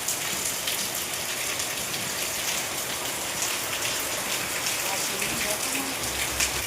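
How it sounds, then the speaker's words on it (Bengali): Heavy midday rain pours down onto open fields, a dense, steady, loud roar of drops on surfaces lasting throughout, with a faint voice underneath. "বৃষ্টি চলেই এলো শেষমেশ, একদম ঝমঝম করে বৃষ্টি হচ্ছে"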